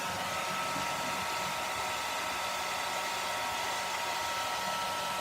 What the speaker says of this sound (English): So I'm just going to use my hairdryer